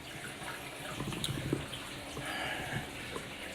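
Water rushes steadily from a DIY aquarium refill hose during a water change, a continuous close splashing flow with small bursts throughout.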